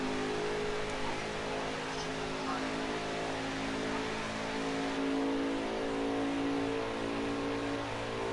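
Race car engines drone steadily and loudly as cars pull onto pit road at Talladega in a racing video game, a constant rev with no break.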